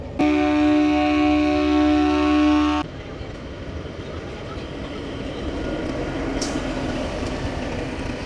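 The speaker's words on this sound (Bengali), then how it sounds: "এই যে ট্রেন রয়েছে সেখানে কিন্তু উঠছি" A loud horn blast from a train opens, then gives way to the low rumble and hum of a large station with a busy background.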